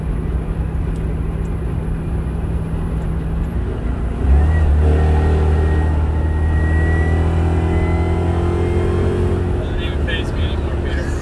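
A modified car flies past an open car window at speed: a low engine roar swells suddenly partway through, then holds loud and steady under steady road and wind noise, close by.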